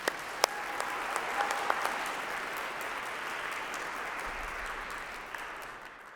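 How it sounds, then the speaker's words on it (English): Applause from a church adult faith formation audience, a steady broadband wash of many hands clapping that holds evenly for several seconds and then tapers off near the end, with a few sharper claps standing out at the start. "let us give a round of applause"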